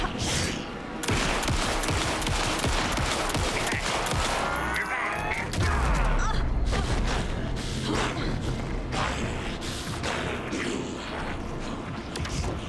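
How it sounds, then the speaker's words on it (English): Rapid bursts of gunfire in the video game Alan Wake II crackle and rattle almost continuously, mixed with explosions and mechanical noise in a dense, loud battle scene. "Anderson, pin him down with gunfire for me to get the light on him"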